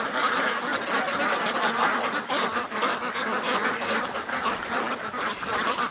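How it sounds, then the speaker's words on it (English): A group of ducks quacks continuously at a watering station in a pen, dense overlapping loud calls close by with no break. "except for some ducks at the watering station"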